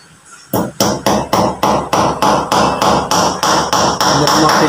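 A hammer strikes repeatedly in a steady rhythm, about a dozen loud, ringing blows close by, each followed by a brief decaying ring.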